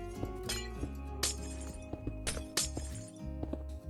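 Glass blocks being placed in Minecraft while building a glass canopy, producing a series of sharp clinking and shattering glass clicks at irregular intervals over steady background music.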